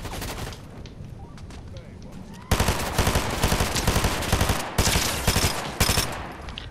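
Rapid bursts of gunfire in the video game Fortnite, sparse at first then loud and dense from the midpoint, with repeated volleys and short gaps.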